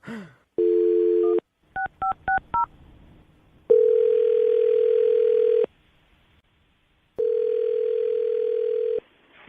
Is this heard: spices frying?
no